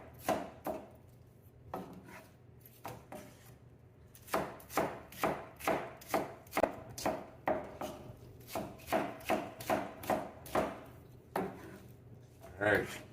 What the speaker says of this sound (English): You don't want to cut them too big because they take a longer time to cook.